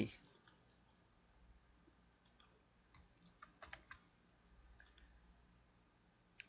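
Computer mouse clicks while working in circuit simulation software: a sparse, irregular series of quiet, crisp clicks, some in quick pairs and clusters, against a faint background hiss.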